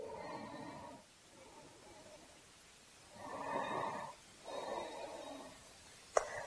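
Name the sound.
deep yoga breathing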